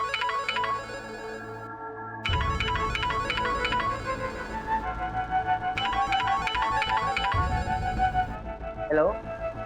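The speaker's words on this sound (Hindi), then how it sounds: "भैया, तो गुड्डू का फोन आ रहा है।" A phone rings with an incoming call, playing a repeating electronic ringtone melody that loops several times. It is fairly loud and steady, with a brief break before the tune restarts.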